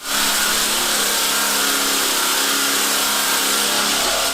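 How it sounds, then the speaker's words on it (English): A loud, continuous whirring grind of a disc sander working across 130-year-old hardwood decking boards, steady and close with no pauses. "We're using a disc sander that we found to be the most effective for this deck"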